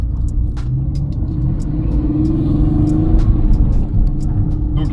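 A Porsche 964 Carrera 2 on the road, its engine rumbling low and steady as the car drives, building slightly midway, with faint ticks and clicks inside the cabin.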